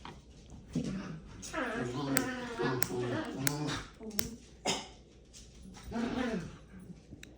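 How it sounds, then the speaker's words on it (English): Dogs playing in a room, with small yips, whimpers and tapping paws heard faintly in the background under steady close talking by a woman throughout. "my dogs are playing in the background"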